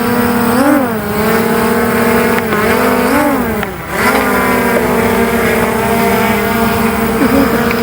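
A small camera drone in flight, its propellers giving a loud, steady multi-toned whine that rises and dips in pitch as the craft maneuvers, close by and continuous with no talking.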